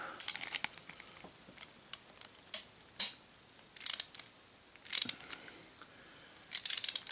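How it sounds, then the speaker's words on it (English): A 13mm socket wrench tightens nuts while installing landing gear on a NexStar NE45 aircraft, giving sharp metallic ratcheting clicks in short irregular bursts, close and fairly loud with quiet gaps between. "I've got a 13mm socket. And I'm just going to use those two and screw them down."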